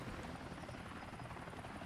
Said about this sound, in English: we have our old standby. It's the chopper.